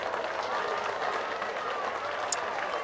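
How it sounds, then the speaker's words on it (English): A big crowd at a 1985 rugby league match between Balmain Tigers and Cronulla Sutherland Sharks roars with clapping and cheering, a broad, continuous wall of noise that stays loud throughout, with a brief sharper peak near the end. "Roar of clapping and cheering there for Russell Gartner."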